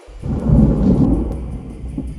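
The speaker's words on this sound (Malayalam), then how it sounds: "പുറത്ത് ശക്തമായ മഴയുണ്ട്." Deep rolling thunder rumbles close by for a couple of seconds over a steady hiss of heavy rain.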